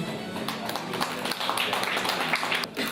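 An award ceremony audience claps in congratulation for a 2018 Korean best-person award winner, with brisk scattered hand claps of moderate loudness forming a short round of applause.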